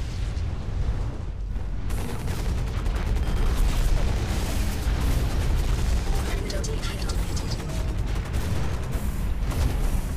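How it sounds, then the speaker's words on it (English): Rocket explosions boom continuously in the mech combat game Hawken, dense rumbling blasts layered over each other amid battle noise, with players talking over it. "Rockets."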